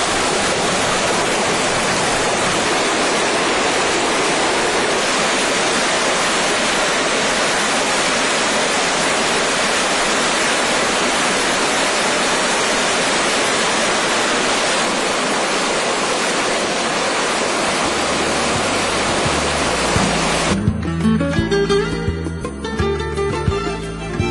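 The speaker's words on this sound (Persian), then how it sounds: "یه آب زلال خارج میشه از این قسمت" Clear spring water pours steadily from an enclosed spring in a constant, close, broadband rushing flow. Near the end it cuts off and some low rumbling takes over.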